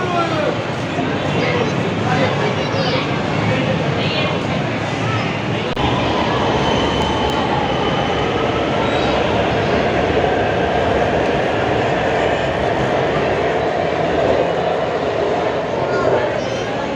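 Lahore Orange Line metro train at Shalamar Bagh station, a loud, continuous rumbling roar of motion that holds steady throughout with no clear break.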